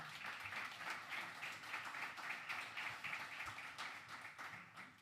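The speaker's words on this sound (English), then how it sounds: "Please give her a round of applause as well." A seminar audience at Expo 2020 Dubai gives a round of applause, steady continuous clapping from a crowd filling the room for several seconds, faint and fairly distant.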